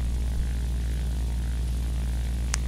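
A Ki-43 Hayabusa fighter plane in a flight combat video game drones with a steady, continuous propeller engine hum, low and even throughout, with a brief faint click near the end.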